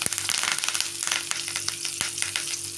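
Mustard seeds, cumin and curry leaves crackling in hot oil for a North Karnataka chana dal palya, a dense close sizzle dotted with rapid sharp pops throughout.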